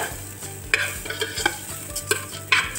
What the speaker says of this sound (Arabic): هحمر برده الرز مع الشعريه علشان يبقى الرز مفلفل وحلو معايا